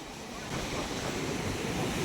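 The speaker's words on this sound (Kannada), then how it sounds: "ನೀರು ನೋಡಿ ಗಾಯ್ಸ್, ಇಲ್ಲಿಗೆ ಸಿಡಿತಾ ಇದೆ." Sea waves crash and splash against a beach in a continuous broad rush of surf, with gusts of wind buffeting the microphone and the roar swelling slightly partway through.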